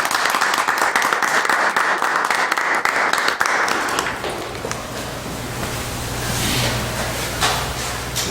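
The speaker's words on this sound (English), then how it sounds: "Round of applause for Alexander." Round of applause at a township committee meeting honoring a young resident, dense clapping for about four seconds that thins out and fades into room murmur and hum.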